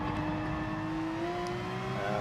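A race car in Gran Turismo Sport powers out of a hairpin with a steady, rising engine whine, fairly quiet and heard on its own.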